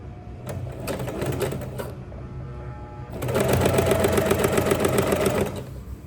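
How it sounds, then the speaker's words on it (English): A sewing machine stitches a garment in two runs, a short burst of fast rhythmic clatter, a pause, then a longer louder steady whirring stretch close by, without talking. "Now you're ready to sew. Now you put your foot on the presser."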